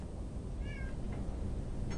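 A house cat gives a few faint, short meows, partly buried under a steady background rumble and hiss.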